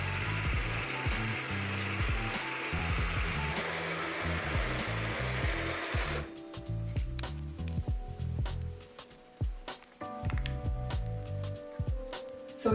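An automated liquid-mover machine prepares a fruit mix: a whirring pump-like hum for about six seconds, then clicking, ratcheting mechanical movements at close range.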